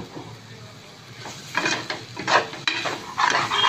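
Spinach (palak keerai) being stirred in a pan with a spoon, giving soft scraping and clattering strokes that grow louder and more frequent, over a low background hum.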